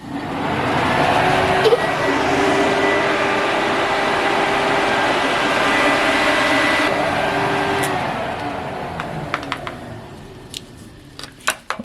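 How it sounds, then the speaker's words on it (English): A car engine cooling fan wired straight to a battery spins with a loud, steady whirring roar that holds for several seconds, then winds down, followed by a few clicks and handling noises. "either I will burn down or the fan will start spinning"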